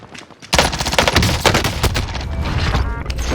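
SMG fire in Call of Duty: Warzone erupts after a quiet half-second, with rapid automatic bursts, loud and close, continuing almost without a break to the end.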